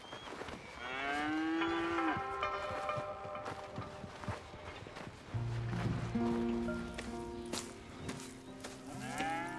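Cattle low and moo on a ranch in the video game Red Dead Redemption 2, with several overlapping long calls near and far, plus hoof clip-clop and footsteps in the background.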